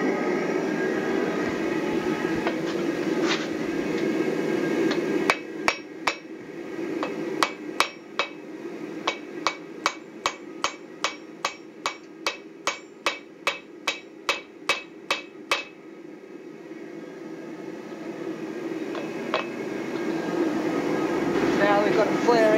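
Hand hammer forging a hot steel bar, upsetting the bar end while working a large eye drift, with about twenty sharp ringing blows in a steady, fairly quick rhythm, close and loud over a hum.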